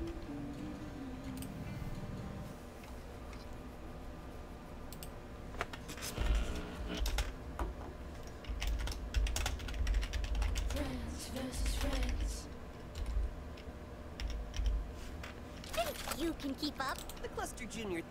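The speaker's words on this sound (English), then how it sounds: "I was typing." Typing on a computer keyboard during a gaming session, heard as quiet, irregular clicks that come in bursts, with bumps and background sound now and then.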